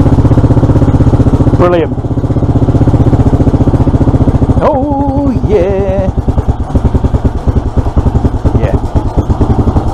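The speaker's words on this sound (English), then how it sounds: "Engine's cold, it's just knocked its auto choke off." A cold Suzuki FL125 motorcycle engine idles steadily up close with a throbbing, slightly uneven beat, briefly dipping and revving around the auto choke, while someone speaks a word over it.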